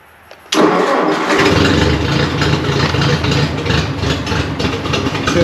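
A Ford 601 series tractor with a 6 volt system cold-starting on a freezing day: a brief quiet moment, then the engine catches abruptly and settles into a loud, steady, close rumbling idle.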